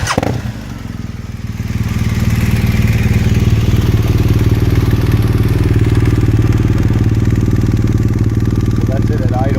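A warm BMW R1200RT motorcycle idles steadily through its exhaust, a close, even low-pitched thrum that holds constant after a brief settling at the start.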